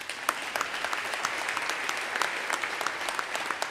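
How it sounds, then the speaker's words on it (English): A community leadership awards audience applauds city of Portland workers, a loud, dense burst of clapping with sharp individual claps, sustained evenly throughout. "I just want to give a great applause to the people that work for the city of Portland."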